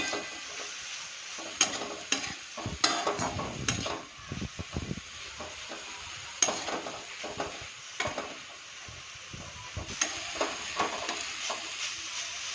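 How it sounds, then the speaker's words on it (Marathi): A wild green vegetable dish simmers and fries in a pan under a soft, steady sizzle and hiss, with clusters of close spoon stirs and pan clatter coming and going throughout. "आता भाजी चांगली शिजू देऊ आपण"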